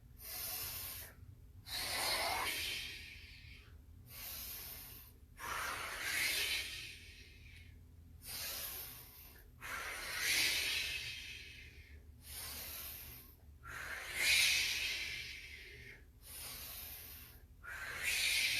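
A person does slow, deep breathing exercises. About eight long, whooshing breaths in and out come at a steady, unhurried rhythm, close and fairly soft, with no talk.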